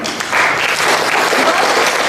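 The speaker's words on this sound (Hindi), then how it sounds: "Big round of applause for him." Steady, loud applause from a workshop audience of the CRPF community in Imphal, Manipur, a dense wash of many hands clapping with faint voices beneath.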